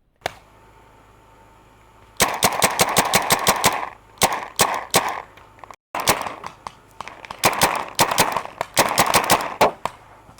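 A Kingman Spyder Victor paintball marker fires loud, sharp rapid bursts nearby, with short strings of cracking shots broken by brief pauses.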